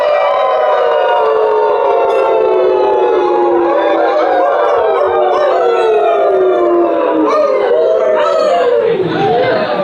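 A crowd of audience members howls together like wolves, many overlapping voices rising and falling in long wavering cries that fill the space loudly and continuously, imitating a wolf pack's howl.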